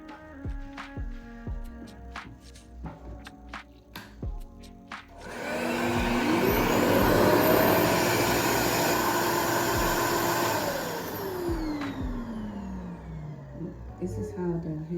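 Hair dryer blowing over hair ahead of locking it into microlocs, switching on after a few seconds of soft tapping and running as a loud steady whoosh that shifts in pitch as it moves, then drops lower near the end.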